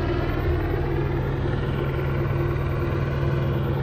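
A helicopter circles overhead during a police search around a boat, its rotor chopping in a steady low throb with a constant engine drone, fairly close and unbroken.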